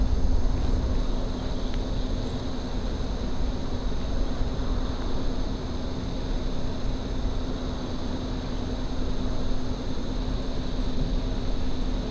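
A distant engine drones steadily outdoors on a trail, a continuous low hum with a faint tonal line running under wind noise for the whole stretch, with no voices over it.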